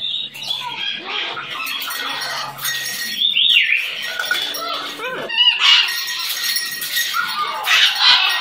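A nervous pet bird squawks and chirps close by, with bursts of wing flapping and shuffling throughout, while a person talks softly in the background.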